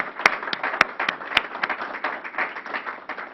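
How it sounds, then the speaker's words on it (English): A modest round of applause at a government briefing, with a few sharp, distinct hand claps standing out near the microphone over a thinner spread of clapping across the room. "Please give her a round of applause."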